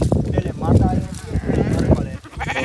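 Sheep being washed bleat loudly and close by, several wavering cries overlapping one another along with people's voices.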